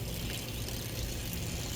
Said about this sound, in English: now what you're doing is you're draining all that Vinegar and water